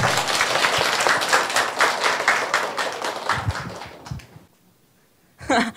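An audience claps to welcome a lecturer, a Korea University economics student speaking on making use of the last 100 days before an exam. Distinct, lively claps fill the room for about four seconds, then fade to near silence before a voice begins.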